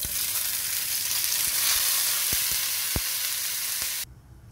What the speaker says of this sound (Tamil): இப்போ இந்த வெங்காயம், தக்காளி, புதினா, இஞ்சி பூண்டு பேஸ்ட்டை வதக்கி எடுத்துக்கலாம்.